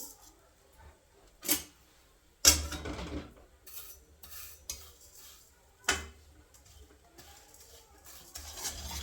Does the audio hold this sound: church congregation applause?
no